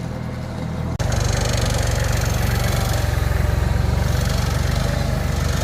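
Kubota 5150 tractor fitted with a Woods Groundbreaker backhoe attachment, running in low gear: a low rumble jumps after about a second into a loud, close, steady diesel drone with a fast even throb.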